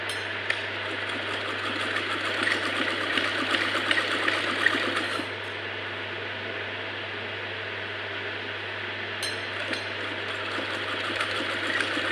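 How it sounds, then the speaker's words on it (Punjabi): Sewing machine stitching lace trim onto fabric, a steady close whirring run that speeds up in busier bursts early on and later settles into an even, continuous hum with no voices. "ਇਹਦੇ ਉੱਪਰ ਇਹ ਸਾਰੇ ਤੇ ਸਟਿਚ ਲਗਾ ਦੇਣੀ ਹੈ"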